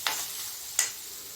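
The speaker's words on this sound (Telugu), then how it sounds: "పసుపు వాసన పోయే వరకు మిక్స్ చేయండి" Turmeric is stirred into ginger garlic paste frying in a pan, with two quick scraping stirs over a faint, steady sizzle.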